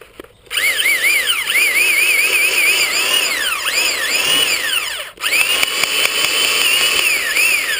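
A Black and Decker Alligator chainsaw runs loud and close as it cuts, its whining motor rising and falling with load, briefly stopping midway before starting again.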